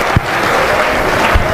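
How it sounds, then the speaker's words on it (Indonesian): Steady applause from a university lecture audience fills the room, a dense even patter of clapping with a couple of sharper claps standing out. "tepuk tangan dulu"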